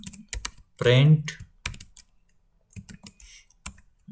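A computer keyboard clacks as Python code is typed, producing a few quick close key taps mixed in with someone talking over them.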